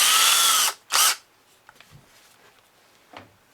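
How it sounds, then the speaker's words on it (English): Power drill fitted with a long bit boring into wood in two loud bursts, a long whine then a short one, followed by faint scraping and handling noises. "Now I'll come back in with a long drill bit"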